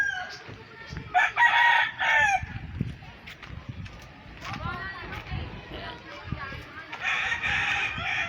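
A hatch gamefowl rooster crows twice on a creek farm, loud and fairly near, with people talking in the background between the crows.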